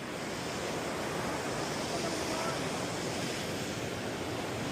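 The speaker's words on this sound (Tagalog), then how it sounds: "Here's the falls." The waterfall at the Forks of the Credit in Caledon, Ontario, makes a continuous broad rushing roar, dense and unchanging, with faint wind buffeting on the microphone.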